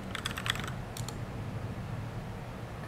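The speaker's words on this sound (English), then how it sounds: "I stopped typing, I should continue typing" Typing on a computer keyboard while coding a React form, heard as two quick bursts of close keystrokes early on, then quiet room noise.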